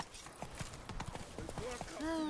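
Roach the horse gallops in The Witcher 3, a quick run of hoof clip-clops followed by a short whinny, with a voice talking over the hoofbeats.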